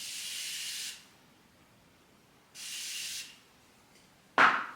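Makeup fixing spray misted from a pump bottle, most likely onto a sponge, in two steady hissing bursts of about a second each and then a sharper short spritz, recorded up close in a quiet room.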